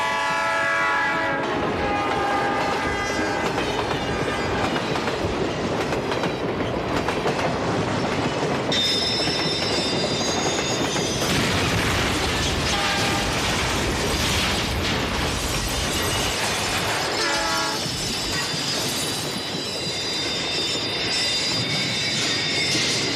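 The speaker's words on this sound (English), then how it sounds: "I also did hear the sound of a train, and I did hear him blow his whistle" A train rumbles steadily past at close range, wheels clattering over the rails, while its horn blows in several long, loud blasts throughout, with no voices.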